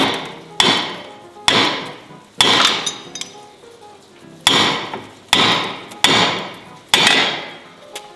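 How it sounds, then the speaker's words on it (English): A sledgehammer strikes a part on the frame of a wrecked MINI, seven loud, close, ringing metallic blows at a steady pace, each one decaying before the next, with no talk. "I'm going to need a sledgehammer to get it off"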